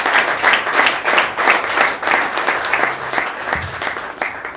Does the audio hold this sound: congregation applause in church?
yes